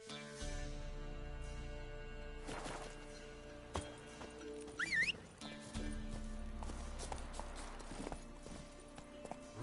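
Roach, a horse in a video game, moves with clip-clopping hoof beats over a low steady music bed, with a few louder clattering hits midway and no talk.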